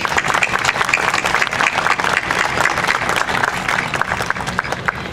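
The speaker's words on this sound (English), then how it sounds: "give them a round of applause." An indoor audience at a city address claps for council members' families, a loud, dense, sustained burst of applause filling the whole stretch.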